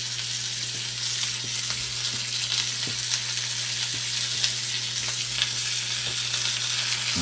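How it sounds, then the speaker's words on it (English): Oxtail pieces sizzle steadily as they brown in a hot pan for oxtail stew, a continuous close frying hiss with small pops throughout and no talking. "You want to brown them on all sides. So you can't do them all at the same time."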